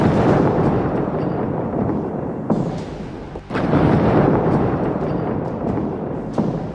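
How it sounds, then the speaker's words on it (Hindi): Heavy bombing in Tehran, heard in war news footage as a loud, continuous low rumble with a few sharper blasts mixed in. "IRGC और बासिज फोर्स के अड्डों पर भीषण बमबारी हो रही है।"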